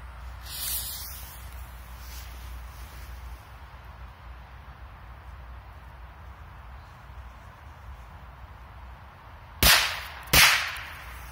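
Two sharp Korsar-3 firecracker bangs go off outdoors in quick succession near the end, loud and close, after a long stretch of quiet background hiss with a faint earlier pop.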